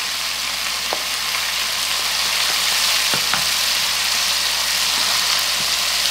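Cornstarch-coated prawns, two at a time, fry in hot oil for a salted egg yolk dish. A loud, even, continuous sizzle fills the clip, with a few faint clicks and no talking.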